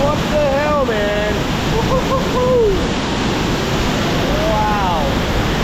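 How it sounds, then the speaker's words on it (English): A loud waterfall roars in a Bali canyon, a dense, steady rush of falling water close by, with faint whistling or bird-like calls rising above it at moments. "I don't think I've ever heard a loudest waterfall in my life."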